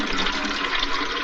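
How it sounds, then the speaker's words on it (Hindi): Water filling a container, a steady loud rushing pour that runs without a break for just over a second. "पानी भर लूं।"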